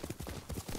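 Horse hooves clip-clop in Ghost of Tsushima, a quick, even run of close hoofbeats over less than a second, with no voices.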